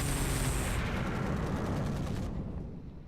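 A mech's cannon in the video game RogueTech fires at point-blank range, one heavy continuous blast that booms loud and near, then cuts off abruptly, followed by a short fading tail.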